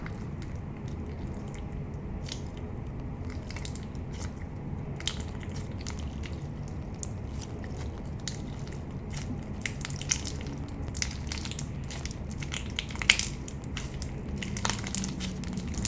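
Crunchy slime is pressed and squished close up, producing a dense, continuous stream of small crackling pops and squelches at moderate volume, with no talking.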